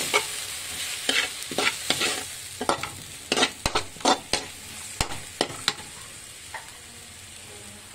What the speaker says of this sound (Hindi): इसमें हम ऐड करेंगे हनी मिक्स कर लेते हूँ